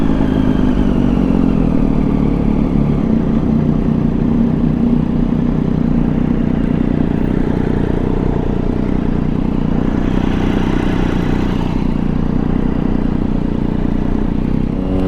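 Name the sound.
Triumph Daytona 675 motorcycle engine running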